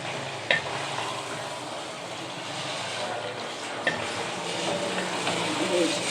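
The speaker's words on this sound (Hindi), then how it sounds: "ये मिक्स करके थोड़ी सी भून लेनी है" Mashed spinach and potatoes for aloo palak sizzle and fry steadily in a pan, a loud, continuous crackling hiss with a couple of brief clinks of stirring.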